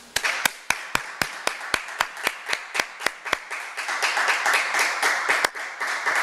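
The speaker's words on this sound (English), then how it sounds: "So please help me and the group here and the auditorium" A small group in a university auditorium claps after an inaugural lecture, starting as distinct rhythmic claps and quickly building into a denser, louder wash of applause.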